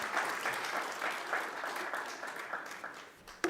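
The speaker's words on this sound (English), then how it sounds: "Can we give a round of applause for Nana and her moderation?" An audience at an agro-dealer roundtable session applauds, a steady patter of many hands clapping indoors for a few seconds, fairly faint and fading toward the end.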